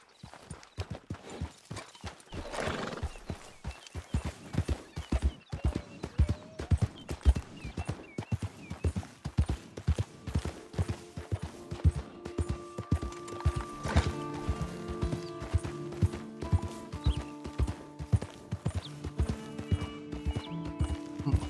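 Hooves of a galloping horse in Red Dead Redemption II clip-clop in a fast, steady rhythm for the whole stretch, with in-game music swelling in the second half and brief snorts.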